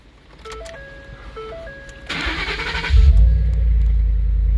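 A few dashboard chimes sound, then a starter cranks briefly and a pickup truck engine with 150,000 miles catches, settling into a loud, deep, rumbling idle.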